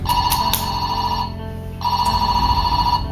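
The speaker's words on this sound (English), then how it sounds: "You get that phone ring." Power Rangers S.P.D. Morpher toy in phone mode ringing, a loud electronic trill that stops briefly, then repeats, with sharp clicks at the start.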